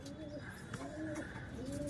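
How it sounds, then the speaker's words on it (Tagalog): Racing pigeons cooing in a loft in Quezon, several overlapping soft throaty coos repeating steadily at close range with faint background noise and no talk. "Diyan muna natin nilagay kasi darating yung mga ibon natin."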